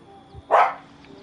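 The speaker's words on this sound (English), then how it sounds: "That's my dog." A single dog bark rings out at close range, one short sharp burst over a quiet room background.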